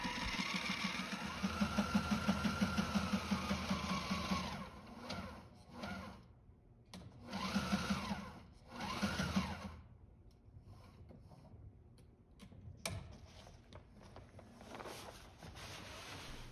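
A sewing machine runs zigzag stitching along the hem of a homemade jib sail, in several bursts of a few seconds each with pauses between, fairly faint and steady at close range.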